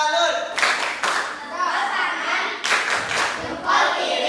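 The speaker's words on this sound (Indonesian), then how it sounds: "kita tepuk salut dulu boleh? Boleh. Ya, tepuk salut." A school class performing a clap salute, bursts of children's clapping in short rhythmic groups, close and lively, with children's voices mixed in.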